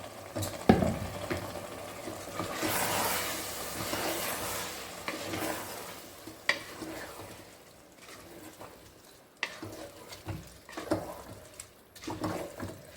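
Rice being stirred in a pot while tomato rice cooks, giving soft scraping and shuffling strokes with a few sharper clicks of the spoon against the pot, close up and with no voices.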